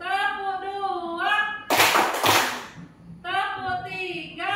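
A class of children in an Indonesian school lesson claps as part of a rhythmic clap game, a short burst of clapping in the middle with a teacher's voice talking before and after it.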